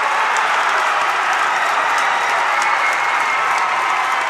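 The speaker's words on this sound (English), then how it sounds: "And the crowd goes wild." Loud basketball crowd cheering and applauding after a made shot in a high school game between Lawrence and Messalonskee, a dense, steady roar of clapping and shouting that fills the whole stretch without a break.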